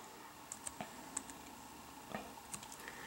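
Several light, separate clicks of keys on a computer keyboard as a formula goes into an Excel spreadsheet, quiet and close, with no voice over them.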